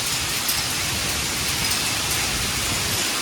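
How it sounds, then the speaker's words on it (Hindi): Heavy rain with hail pouring down onto a lawn and crops, a dense, steady hiss of drops with scattered sharper pattering hits, continuous and loud throughout with no voices. "देखो लॉन में देख सकते हैं कितनी तेज बारिश हो रही है"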